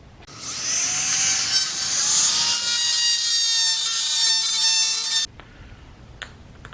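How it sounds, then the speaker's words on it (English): A high-pitched Dremel rotary tool with a 1/8 inch bit whines steadily for about five seconds while cutting into plastic, then cuts off, leaving faint clicks. "a Dremel with a 1/8 inch drill bit, and it should cut through this pretty well"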